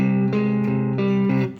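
An electric guitar with overdrive distortion plays a study, shifting sustained, buzzy chords roughly three times a second, loud and close, with no talking.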